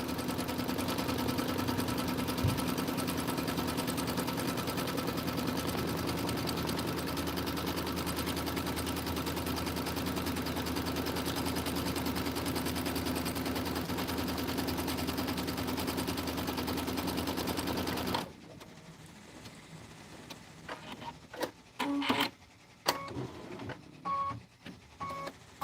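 An embroidery machine with a magnetic hoop stitches autumn borders at reduced speed, a steady rapid mechanical whirring for about eighteen seconds, then stopping into scattered clicks and clatters.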